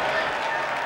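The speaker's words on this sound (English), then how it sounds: "Feels Santa Mele in the Breeders' Cup Classic to the roar of the Santa Anita crowd." The Santa Anita racetrack crowd roaring at the start of the 2009 Breeders' Cup Classic horse race, a dense, steady wash of cheering from a large grandstand heard for about a second.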